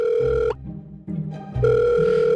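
A ringback tone sounds on a public phone line, a loud, steady electronic tone that plays, pauses briefly, then returns, with no voices.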